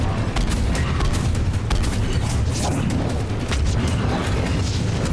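Rapid grenade explosions and gunfire in a post-apocalyptic shooter video game, dense and continuous booms with crackling bursts filling the whole stretch, loud and close with no pauses.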